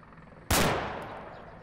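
A single sharp sniper rifle shot in the Arma 2 video game cracks loud and close, then rolls off into a long fading echoing tail.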